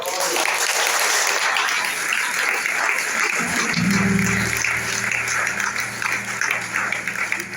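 Congregation applause at a Brazilian family church service, dense sustained clapping filling the space while a low organ or keyboard chord enters midway and holds underneath.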